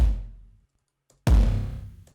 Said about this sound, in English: It starts with this kick, which sounds like this.